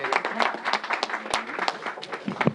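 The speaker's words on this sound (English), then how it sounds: "Let's give the Assembly member another round of applause." A short burst of audience applause at a public event held in a church, with irregular, fairly close hand claps and a faint voice mixed in.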